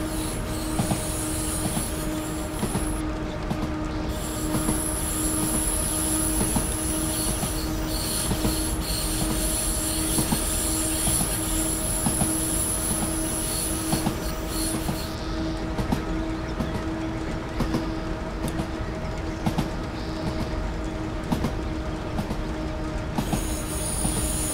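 A 103 Series EMU electric train climbing at full power in Train Simulator 2017 on a line in Japan, with a steady motor hum, wheel squeal and regular clicks from the rails over the track joints.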